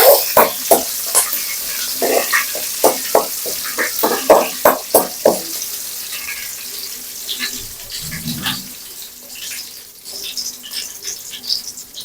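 Fish puttu mixture sautéing in a pan, with a quick series of scraping, clacking stirs up close, then a brief soft sizzle and sparse light utensil taps.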